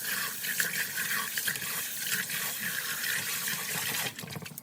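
Running water splashes steadily as rice is rinsed for coconut rice, a continuous close wash of liquid with small agitated swishes throughout, no talking.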